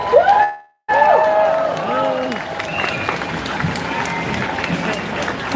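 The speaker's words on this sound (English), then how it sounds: "If you would like to give him a hand and a big cheer." A crowd applauding and cheering for a bishop at a live gathering, clapping that swells after a brief gap, with people talking over it.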